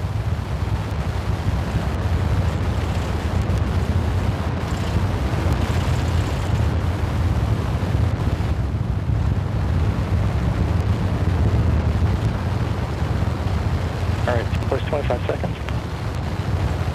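The SLS rocket core stage engines fire during the Green Run static test, a steady, loud broadband roar with a deep low rumble that holds unbroken throughout, under occasional radio talk.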